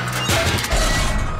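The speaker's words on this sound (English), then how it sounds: "Lads, let's smash up this old pipe." An old pipe is smashed up during roadworks in a cartoon, giving two loud crashing whacks in quick succession, close and with no talk.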